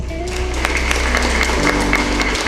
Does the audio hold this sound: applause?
yes